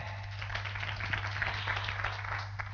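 Audience clapping in a seminar room, a brief steady patter of many hands at moderate distance, continuous for a few seconds over a low hum.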